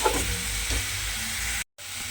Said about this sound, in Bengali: নেড়ে নেড়ে একদম ভাজা ভাজা মতো করে নিতে হবে